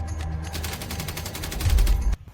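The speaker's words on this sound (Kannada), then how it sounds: "ಇಬ್ಬರು ಮುಂದೆಗಡೆಯಿಂದ ಬಂದು ನಿಂತು ಇಂದಿರಾ ಗಾಂಧಿ ಅವ್ರಿಗೆ ಶೂಟ್ ಮಾಡೋದಕ್ಕೆ ಸ್ಟಾರ್ಟ್ ಮಾಡ್ತಾರೆ" Rapid bursts of gunfire fill a sound effect for the assassination of Indira Gandhi at a main gate, with loud, dense overlapping shots that build and then cut off abruptly, and no talk.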